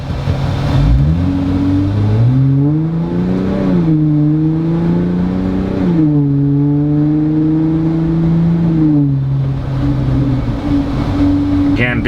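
A Jeep Wrangler JL engine pulling hard in a drag run, its loud droning note climbing through several gear shifts, dipping and rising again over about twelve seconds from inside the vehicle.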